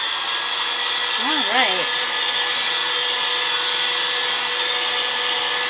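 A heat tool blows steadily and loudly throughout while heat-setting a glue resist, with a brief spoken word heard over the constant hot-air roar.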